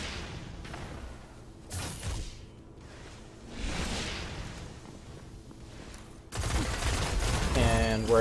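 Shotgun blasts and gunfire in a Destiny Trials of Osiris match, sharp bursts around the second and fourth seconds, then a louder, denser barrage of fire near the end, with whooshing ability sounds between.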